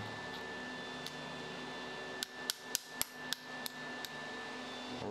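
A welding torch nozzle is cleaned with a series of about seven sharp metallic taps and knocks in quick succession over a steady background hum.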